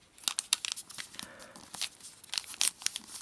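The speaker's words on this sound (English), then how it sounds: "So we'll fold it, unfold and squash" Origami paper is folded, unfolded and squashed flat for a star model. Dense crinkling and crisp rustles come in quick uneven bursts, close and fairly loud.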